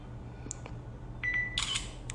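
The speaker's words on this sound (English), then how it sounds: "And the shutter speed was fast." Shutter clicks and short electronic beeps come from an Asus Zenfone 2 Laser phone camera, heard faintly over a low steady room hum, with a brief tone just before the final clicks.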